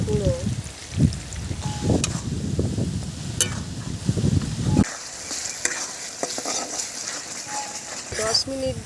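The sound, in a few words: spice paste sizzling while frying in a pan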